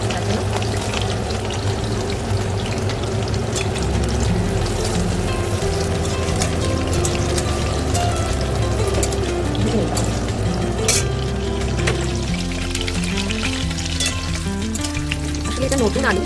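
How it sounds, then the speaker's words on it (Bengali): New potatoes frying in hot oil on low heat for a duck curry, a loud, dense, continuous sizzle with crackling bubbles throughout. "এবারে আমি তেলটা গরম হলে আমি আলুগুলো ভেজে নেব"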